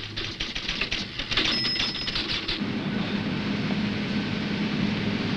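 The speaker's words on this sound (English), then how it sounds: "Typesetting is no longer done on a typesetting machine, but with something that looks rather like an ordinary typewriter." Typesetting keyboard resembling an ordinary typewriter punching code onto paper tape, heard as a dense close clatter of rapid keystrokes for about two and a half seconds, then giving way to a steady mechanical hum.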